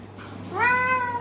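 A tomcat meows once, loud and close, a rising then drawn-out call as it pleads to be let outside, heard alone over faint background hum.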